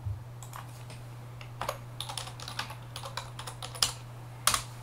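Fingers type on a computer keyboard, with irregular clicks and clacks up close over a steady low hum, building to a couple of louder final keystrokes, with no talking.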